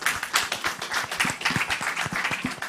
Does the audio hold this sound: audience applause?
yes